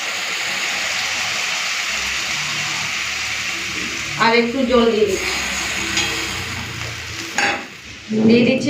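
A mustard and green chili paste fries in a pan with cumin, giving a steady sizzle and stirring, broken by a few louder sputtering bursts partway through.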